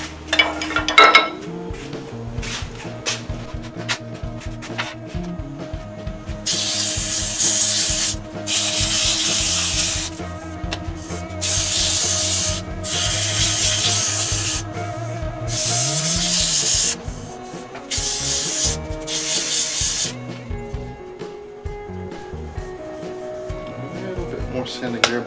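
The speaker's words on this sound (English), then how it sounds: "More sanding there, but I think it's okay." A small wooden plate on a lathe is sanded with 120-grit paper in a series of steady, rasping bursts of several seconds each, recorded up close over a low machine hum.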